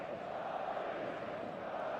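A steady, dense roar from a large stadium crowd before kickoff in the football game eFootball 2026, a continuous wash of massed voices with no individual shouts standing out.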